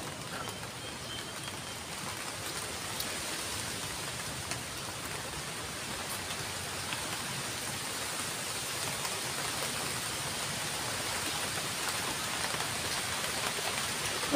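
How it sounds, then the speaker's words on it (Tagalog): Heavy rain falls steadily, a dense even patter of drops on surfaces that continues without a break throughout. "malakas naman yung ulan"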